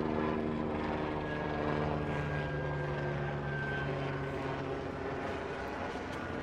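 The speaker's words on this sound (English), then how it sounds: "Helicopter." A helicopter drones steadily overhead, its rotor chop and engine hum loud and constant without any talking.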